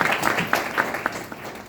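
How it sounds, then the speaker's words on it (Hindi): An audience gives brief, scattered clapping for the leaders at a DXN gathering, a short patter of hand claps in a room. "जितने भी सम्मानित लीडर हैं सभी के लिए एकजुट ताली।"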